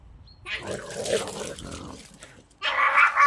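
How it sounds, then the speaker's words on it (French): Dogs play-fighting together outdoors growl and snarl in rough bursts, then a louder, higher yelping scuffle erupts near the end; a person's voice can be heard faintly alongside. "Qu'est-ce qu'ils font les chiens? Ils sont en train de se batailler ensemble pour rigoler."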